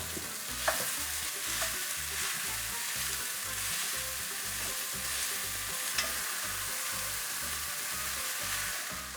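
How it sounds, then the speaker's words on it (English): Ground venison browning in a chili pot with jalapeno and garlic, a steady close sizzle with a rhythmic low churning from stirring and occasional light clicks of the spoon against the pot. "I'm also gonna go ahead now and add my ground venison to the pot."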